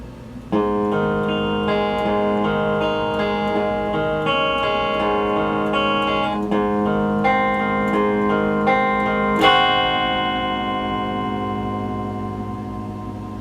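An electric guitar plays a song's riff alone, a sequence of picked notes and ringing chords with light effects, ending on a louder struck chord that slowly decays.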